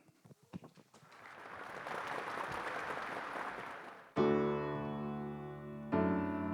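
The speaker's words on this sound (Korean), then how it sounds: "박수 주세요" An audience applauds ahead of a stage performance at a talk concert in Ansan, a steady wash of clapping lasting a few seconds before loud music abruptly begins and carries on.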